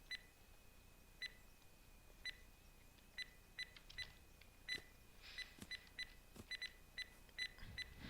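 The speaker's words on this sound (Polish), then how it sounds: "O, już przestali pikać." Repeated electronic beeping in the video game HurtWorld during a base raid: short, sharp, high bleeps in an irregular series over a faint steady tone, with scattered clicks and thuds nearby and no talking.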